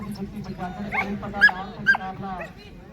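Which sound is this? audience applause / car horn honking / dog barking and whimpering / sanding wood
dog barking and whimpering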